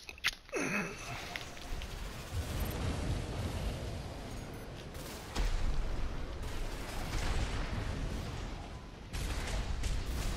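Shotgun blasts from a lightweight mech in Armored Core VI, a sharp burst at the start giving way to a sustained roar of heavy gunfire and explosions over ten seconds, with further impacts midway and near the end.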